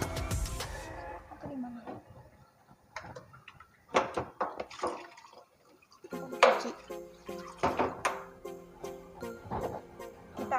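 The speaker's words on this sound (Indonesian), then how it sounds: "Kita aduk sampai mendidih." A spoon stirs a pudding mixture with cornstarch in a pot, making irregular clinks and scrapes against the metal with short pauses between strokes.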